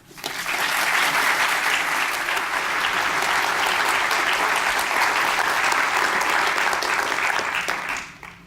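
Sustained applause from a lecture audience welcoming speaker Robert Zubrin, rising quickly to a steady, full clapping roar that holds for several seconds before fading out.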